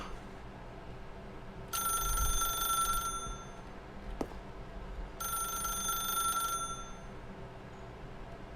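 A telephone rings in The Stanley Parable, two distinct bursts of bright electronic ringing separated by a pause, loud and close, with a brief click between them.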